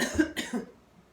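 A person coughs twice in quick succession, close and moderately loud, then falls quiet.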